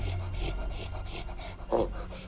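A dog pants in a Star Wars: Clone Wars episode, quick rhythmic breaths over a steady background hum, with a sharper louder huff near the end.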